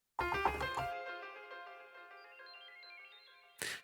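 A piano-like synth preset called Robert's Dream from the Sounds of the 90s expansion for reFX Nexus, one bright chord struck and held with a shimmering effected decay, then a short second hit at the end.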